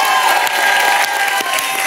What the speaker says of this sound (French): Vous pouvez les applaudir quand même.